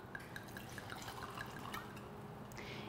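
Wine poured into a glass for a wine spritzer, a steady liquid stream with small bright drips and splashes over a constant background hum, close and fairly quiet, no talking.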